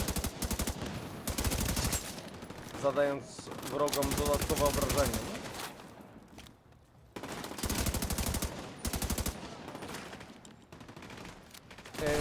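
Bursts of rapid automatic gunfire in the game The Division 2, several volleys separated by pauses, with a voice speaking between them.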